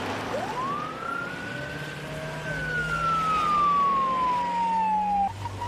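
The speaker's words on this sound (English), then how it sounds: "Volunteer paramedic Glenn Colsheen followed the ambulance toward the scene" An ambulance siren sweeps up and holds a long, loud wail that slowly falls in pitch as the vehicle heads toward an asthma emergency scene, over low road and engine rumble, with no talk.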